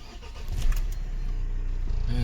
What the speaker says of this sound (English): Let's stop the engine. Restart it again.